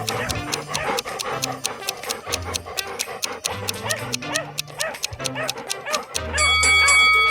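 A dog barks and pants in a quick, choppy run of sounds that ends in a louder sustained stretch, with music-like tones throughout and no talking.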